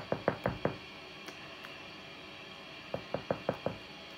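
Two bursts of sharp knocking, a quick run of four raps, a pause, then five more, close and crisp with no talk over them.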